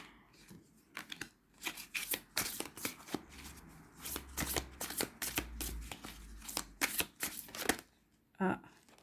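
Tarot cards are shuffled close up in repeated riffles and flicks of crisp paper snaps. Someone speaks French quietly underneath, and a final brief burst of handling ends it.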